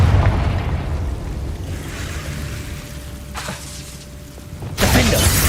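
A Confringo fire spell going off in Hogwarts Legacy, with a rumbling boom and crackling debris that fade under a thin sustained tone, then a fresh sharp burst of shattering noise near the end.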